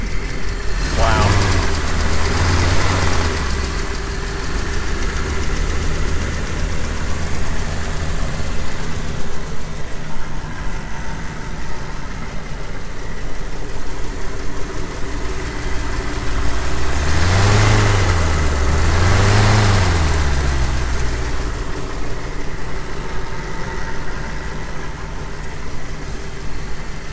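A warmed-up 1936 Ford Model 68 engine idles steadily nearby with a low, even rumble, briefly rising twice as the throttle is blipped, under continuous background noise.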